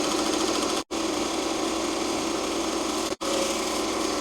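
An embroidery machine stitches a gold decorative ring of leaves, its needle buzzing in a fast, even mechanical whir close by, broken by two brief pauses.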